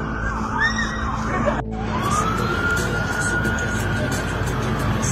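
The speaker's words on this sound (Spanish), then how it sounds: "No, es una ambulancia" An ambulance siren wails during a shootout chase in Jalisco, a loud rising and falling tone on the street with traffic rumble and a voice talking over it.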